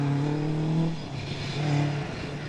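A 4-door Mark II rear-wheel-drive rally car on a forest stage of the Wyedean Forest Rally, its engine revving hard and pulling through gear changes, loud and close, rising twice with a dip between.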